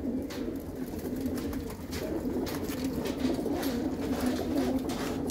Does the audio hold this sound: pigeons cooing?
yes